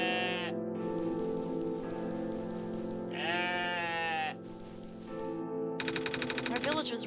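Demon sheep in the video game OneShot let out a series of loud, wavering bleats, some long and some short, separated by brief gaps, with other game sounds underneath.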